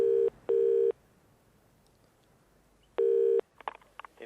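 Telephone line tones during a call: two short steady beeps, a pause, then another beep, followed by faint clicks, clear and close with no talk.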